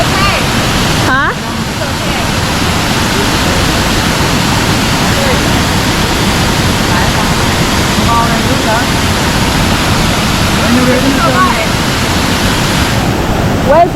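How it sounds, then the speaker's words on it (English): The Aling Aling waterfall near Ubud, Bali, roars as a loud, continuous broadband rush of falling water that fills the whole stretch, with brief faint voices over it. "We were near waterfalls, so it was unavoidable"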